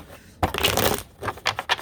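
Tarot cards being shuffled by hand before a reading, heard as a brief quiet pause followed by a long papery riffle and then several shorter crisp bursts, close and alone.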